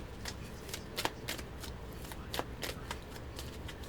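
A tarot card deck is shuffled, producing a run of soft, crisp riffling flicks at an irregular pace, close but quiet, with no talking.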